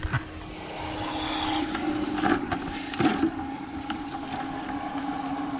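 Steady motor hum of emergency water pumps running submerged on a boat, with a constant mechanical drone and some rattling and splashing over it.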